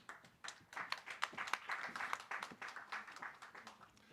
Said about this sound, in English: Let's give her a round of applause as she goes up